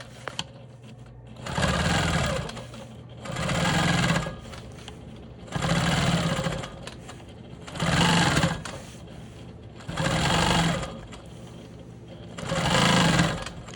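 A Quilt Maker Pro 20 quilting machine stitches in six rhythmic bursts, each a couple of seconds of loud, steady mechanical whirring, with short quieter pauses between runs.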